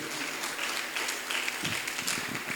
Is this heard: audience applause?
yes